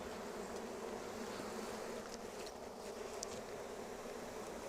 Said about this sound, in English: Oh, you can see these bees.